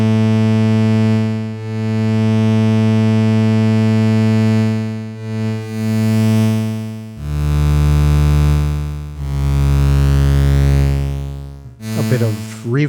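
A UVI Vintage Vault software synth holds a sustained buzzy low chord, filtered through a low-pass and driven into growling distortion, the tone thickening and shifting as settings are tweaked, ending in a brief filter sweep; no voices.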